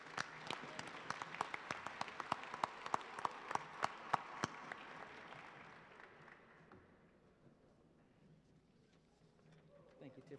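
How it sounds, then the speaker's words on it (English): Chapel audience at a college service applauds ROTC cadets, with sharp individual claps rising to a lively burst before thinning into a soft murmur and scattered noise. "Let's give them another round of applause."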